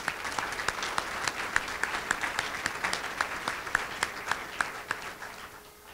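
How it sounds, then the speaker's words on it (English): An audience at a museum reopening gala applauds steadily, a mix of many hands with a few sharper individual claps, gradually thinning out toward the end. "one more round of applause for all of you"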